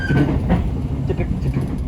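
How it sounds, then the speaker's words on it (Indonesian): Tawang Alun passenger train running, heard from on board with a steady loud rumble and rhythmic clatter of wheels on track, with no talking. "Saat ini perjalanan saya naik kereta api Tawang Alun dari stasiun Kalisat."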